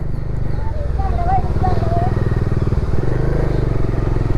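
Steady close motorcycle engine drone while riding a small, confusing road toward Gudibande Fort, continuous throughout with a faint voice underneath.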